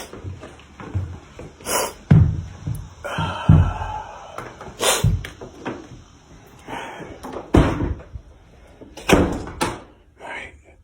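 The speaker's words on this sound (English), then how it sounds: "I'm gonna close this door." A door is pushed shut with a solid slam while someone moves about a room, followed by a few other knocks and thuds of things being handled, close by and fairly loud.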